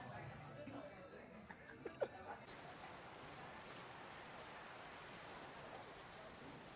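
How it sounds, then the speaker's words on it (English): Dense, steady rain roars continuously, with a brief faint laugh or voice early on; constant broadband wash throughout. "It's raining so hard."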